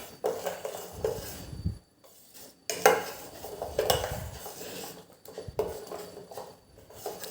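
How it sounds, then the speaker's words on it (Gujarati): A utensil stirs and scrapes sweet jaggery chutney in a pan over a low flame, clinking against the metal in several separate bouts with short pauses between them. "ને વચ્ચે વચ્ચે આપણે આવી રીતે હલાવતા રહેવાનું"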